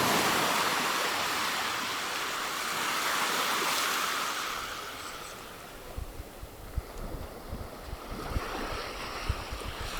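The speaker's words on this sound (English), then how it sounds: "There's the waves now" Ocean surf at Porthor beach washes in a broad roar that slowly swells and fades, then breaks into closer splashing and lapping with wind buffeting the microphone.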